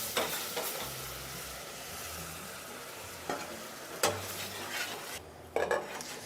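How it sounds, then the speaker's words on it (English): Honey caramelizing with spices in a hot pan, a steady low sizzle broken by a few sharp stirring scrapes and clinks of a utensil against the pan, with no talking. "I'm going to add that to our spices and almost caramelize our honey a bit"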